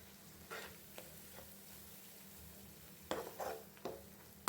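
Ground gongura leaves fried in oil in a pan are stirred now and then, giving a faint low sizzle broken by a few scraping and clinking strokes that grow sharper toward the end.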